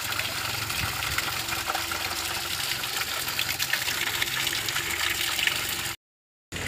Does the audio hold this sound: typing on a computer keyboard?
no